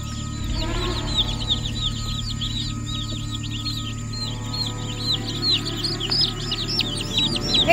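Dense, continuous high peeping of many baby chicks, Easter Egger and Orpington breeds, chirping steadily and close by in a brooder, with no talk and a low background hum underneath.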